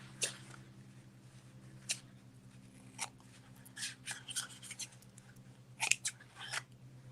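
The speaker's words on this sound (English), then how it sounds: "I need to trim the ribbon. Come back here, scissors." Scissors snip through a length of ribbon in a few quick, separate cuts spread across the moment, crisp and close against a quiet room with a low steady hum underneath.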